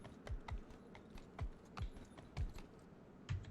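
Horse hooves clop in the Mount & Blade II: Bannerlord video game, about seven spaced, fairly loud beats over a steady low rumble of game ambience, with no talking.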